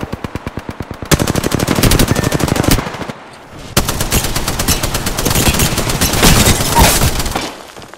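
Automatic weapons fire in the video game Apex Legends, with loud sustained rapid bursts and a brief pause before a second long volley, close and intense, with no talking.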